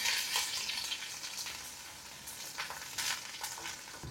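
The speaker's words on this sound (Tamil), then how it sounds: "இப்போ பிரண்டையை போட்டுடலாம். பிரண்டை நல்லா வதங்கணும்" Pirandai (veld grape stems) sautéing in oil with mustard seeds in a pan, a loud continuous close sizzle with occasional stirring scrapes and no voices.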